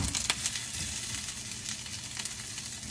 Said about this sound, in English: everything is sauteing. I add my peppers. I'm gonna saute those really nicely